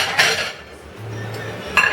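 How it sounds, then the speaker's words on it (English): A ceramic bowl is set down onto a plate in a kitchen during tortilla soup preparation, giving a close, sharp clink at the start and another brief knock near the end, with a low hum between. "You put your bowl on your plate"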